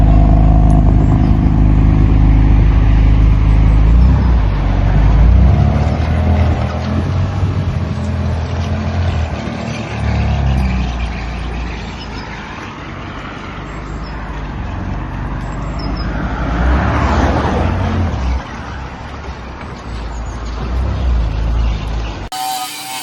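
BMW F80 M3 on a badly worn tyre drives along, engine and road roar loud and steady with rumbling low-end, a rising rev surge partway through, and a rattly tyre-and-road noise throughout.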